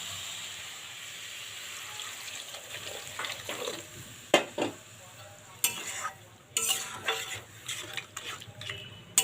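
Steady sizzling of spices frying in a pan, then a burst of loud hissing and bubbling as water hits the hot oil, with stirring clatter after, while cooking a cabbage ghonto.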